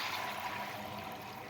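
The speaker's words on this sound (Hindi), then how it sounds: "यहाँ पे मैंने 1 मग्गा भर के पानी का डाल दिया है" A mug of water pours into a pan of lightly cooked sugar while sweet vermicelli is made, giving a short, steady splashing rush at moderate closeness with no talking.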